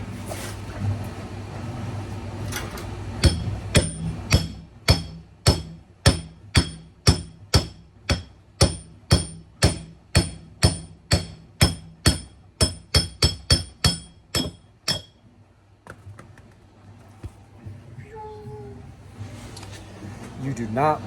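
Hammer striking the shaft of an older Whirlpool Cabrio washer, a long run of rapid, evenly spaced metallic blows close by that stop abruptly, followed by quieter handling noise and a brief voice.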